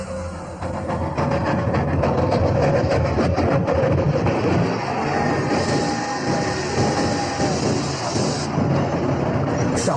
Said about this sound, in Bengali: সকালের ট্রেন।